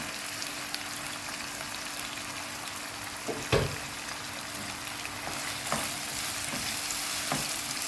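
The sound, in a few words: stirring chicken with tomato in a frying pan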